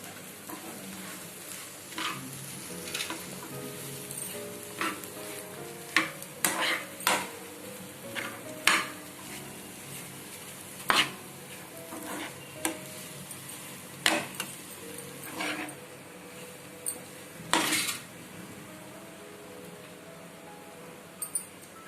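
Spatula stirring boiled-egg fry with garam masala in a pan: irregular scraping clicks and taps over a low, steady sizzle, fairly close and moderately quiet.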